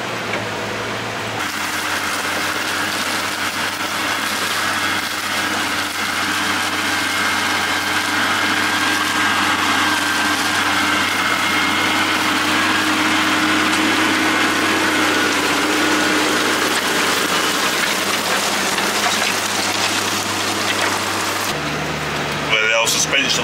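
JCB Fastrac tractor's engine pulling steadily under load while ploughing, a loud, continuous drone with a sustained tonal hum, running evenly before the pitch briefly shifts near the end.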